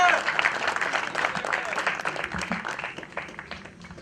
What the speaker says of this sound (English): You gotta see the applause from the kids.